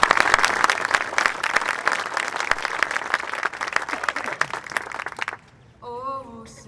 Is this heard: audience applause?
yes